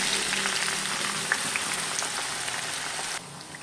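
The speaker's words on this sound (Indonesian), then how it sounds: "Oke, kalau minyaknya sudah panas, lalu kita goreng bawang merahnya" Shallots frying in oil heated over a high flame, a steady dense crackling sizzle that stays loud and continuous throughout, with no talking.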